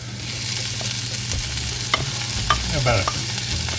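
Cooked black beans sizzle and fry in a hot pan while a spoon stirs and scrapes through them, a close, steady crackle with occasional soft knocks and no talking.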